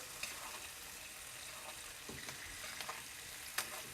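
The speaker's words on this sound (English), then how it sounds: "We're gonna put our steak back in our hot pan. For 2 minutes." A steak sizzles in a hot pan while melting butter, flavored with garlic and herbs, is spooned over it, giving a steady close crackle broken by a few sharper spits and pops.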